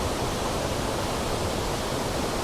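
A waterfall on Anglesey pouring into a rocky pool, heard up close as a loud, unbroken broadband rush of falling water that stays constant throughout.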